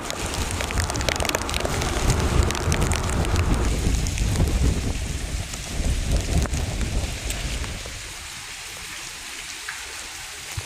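Heavy rain pours steadily in a dense, continuous hiss with scattered drips and gusts, loud throughout and easing slightly near the end.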